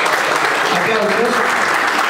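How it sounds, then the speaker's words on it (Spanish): Brief burst of audience applause at a Racing Club documentary presentation honoring a guest, dense clapping with some voices mixed in underneath. "Aplausos."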